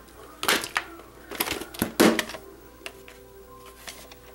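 Clicking tone over a white screen at the end of a 1994 VHS tape, a series of sharp irregular clicks and clacks, fairly close, fading to sparser ticks.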